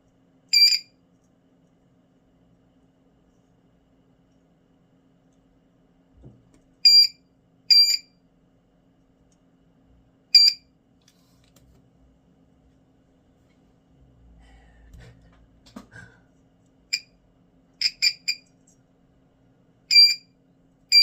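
Metal detector test tone: short high electronic beeps, alone and close, some single and some in quick pairs or triplets, separated by silence, with faint low handling noise in between.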